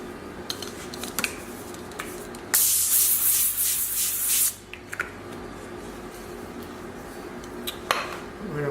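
Cooking spray hisses in one steady burst of about two seconds onto an aluminum foil-lined baking sheet, framed by close foil crinkling and light metallic clatter from the pan before and after.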